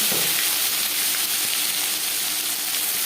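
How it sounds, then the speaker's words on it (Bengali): Whole cumin seeds and bay leaves frying in hot mustard oil, a steady close sizzle and hiss with faint crackles running unbroken throughout. "পরিমাণ মতো সর্ষার তেল গরম করে নিয়েছি দিয়ে দিলাম গোটা জিরে তেজপাতা"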